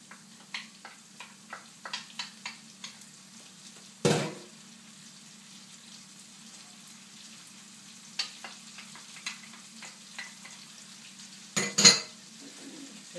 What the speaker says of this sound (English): And then I'm going to add the onions.